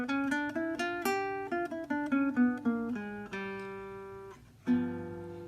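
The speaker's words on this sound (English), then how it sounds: "so G half-whole diminished scale, which sounds like this." A G half-whole diminished scale played note by note on a pitched instrument, a quick run of clear tones stepping along before a final sustained chord-like note, heard alone and up close.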